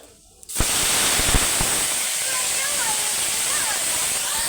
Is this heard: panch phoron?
yes